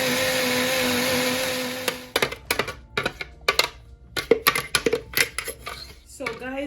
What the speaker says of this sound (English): after blending what I showed you